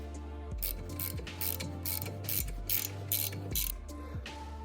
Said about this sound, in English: That way I can get an extension on this caliper bolt right here.